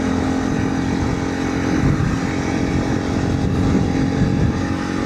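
A big bore Honda CRF300L Rally motorcycle cruises on pavement, its engine droning steadily and loudly at constant speed, mixed with rushing wind and road noise.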